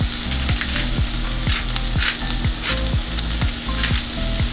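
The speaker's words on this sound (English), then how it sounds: "And then we're going to stir it and combine everything well." A seasoned mixture with salt and coarse black pepper sizzles loudly in a hot pan, with regular scraping strokes of a spoon or spatula repeating about twice a second, close and alone.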